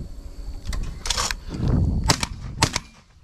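A Browning A-5 shotgun fires at a thrown clay target outdoors, with a few sharp broadband reports spread over about three seconds, one heavier blast in the middle, all fairly loud and nearby with no talking.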